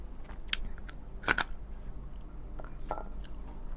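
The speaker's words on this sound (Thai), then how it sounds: "ผักกาดนกเขาค่ะ กรอบ" Crunchy pickled mustard greens being chewed up close, with a few sharp crisp bites breaking through quieter, softer chewing.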